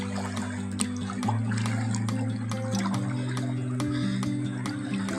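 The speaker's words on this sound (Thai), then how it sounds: "อันนี้เป็นลำธารน้ำจากธรรมชาตินะครับ" A natural stream runs outside a house in Wiang Kaen, Chiang Rai, giving a steady, close rush of flowing water with a constant low hum underneath.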